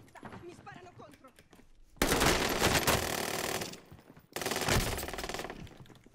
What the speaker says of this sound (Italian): Mi sparano contro!